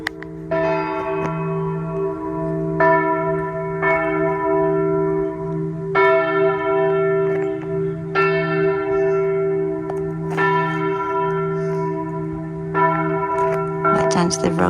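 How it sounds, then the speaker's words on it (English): Church bells in a Tuscan village chime on and on at the end of Vespers prayers, with repeated resonant strikes roughly every two seconds over long ringing tones that hang in the open air, loud and continuous. "you can hear the bells chiming"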